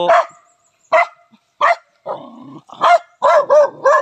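Dog barks in a rural Filipino yard setting, several loud close barks in irregular bursts with a short growl between them, no talking over them.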